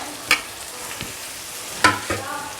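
Tomatoes going into a pan of frying chilli chicken and being stirred, a few scraping clatters over a low steady sizzle, with no talking.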